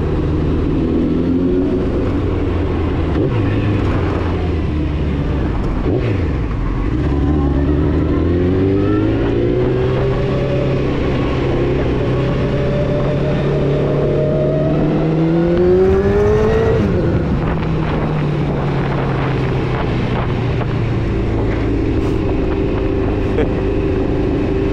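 Honda CBR900 Fireblade SC28 motorcycle being ridden, its engine rising and falling through repeated revs and gear changes, loud and close with wind rush over the rumble.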